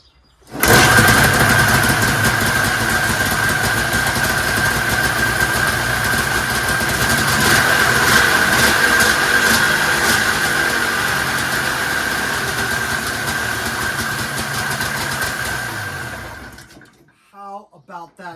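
Bombardier Ski-Doo Formula MX snowmobile two-stroke engine running on a test fuel setup, loud and close, idling at a steady pitch for about sixteen seconds before cutting out, with brief talk after it stops.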